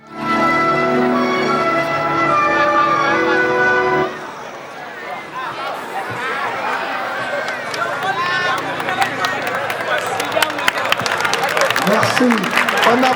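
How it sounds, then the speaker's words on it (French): Crowd applause at a football tournament final follows a few seconds of loud horn-like musical tones. The clapping and cheering then build into a dense, noisy wash mixed with voices and scattered whistles. "On applaudit"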